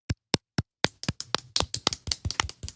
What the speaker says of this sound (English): a little bit of a golf clap for his thing